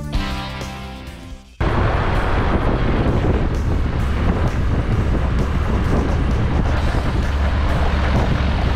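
Wind buffeting a light aircraft on the ground during its pre-flight run-up, a steady loud rushing roar that takes over abruptly after a quieter opening and holds constant, with no talk over it.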